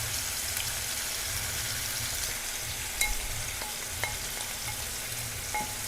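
Chicken tandoori sizzling steadily in a pan over a medium flame, a continuous close frying hiss with occasional small pops and spatters, no voices.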